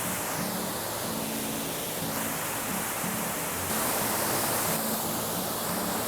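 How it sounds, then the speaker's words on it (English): A waterfall along the Appalachian Trail gives a steady, full rushing roar of falling water that stays constant and fairly close throughout, with no talking. "this is really an amazing waterfall."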